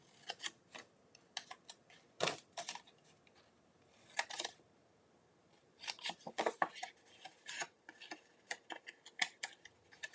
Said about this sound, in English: I'm going to trim those tabs.